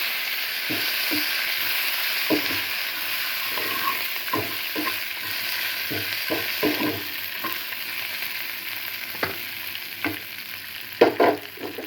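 Dried red chillies frying with drumstick leaves in a pan, under a continuous sizzle with scattered sharp stirring scrapes and taps throughout, close and moderately loud, no speech.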